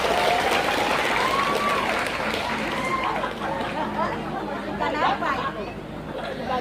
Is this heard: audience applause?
yes